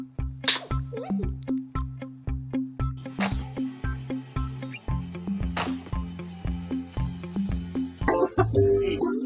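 A baby sneezes in a short cute moment, the sharp little bursts standing out over a steady repeating rhythmic background music track.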